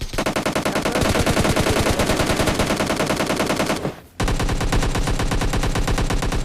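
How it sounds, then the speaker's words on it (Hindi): Rapid automatic gunfire in the mobile battle royale game PUBG Mobile Lite, loud dense bursts of shots filling the clip, broken by a brief pause before the firing resumes. "इतनी गोली मार दी थी मैंने इस बंदे की"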